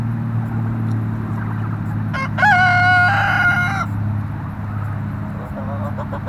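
A rooster crows once, loud and close, a long drawn-out call standing above a yard of chickens and turkeys, with a steady low hum running underneath.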